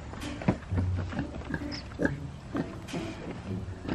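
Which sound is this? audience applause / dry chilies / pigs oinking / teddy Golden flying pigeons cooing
pigs oinking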